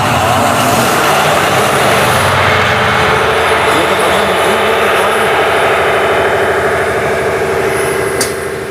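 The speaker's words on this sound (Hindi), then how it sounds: "ये हमारे बड़े बड़े इंजन हैं जिनसे बैटरीज चार्ज होती हैं।" Large diesel engines that charge the batteries thunder inside a submarine's engine room, a loud, continuous, dense mechanical roar with steady throbbing that holds for the whole stretch.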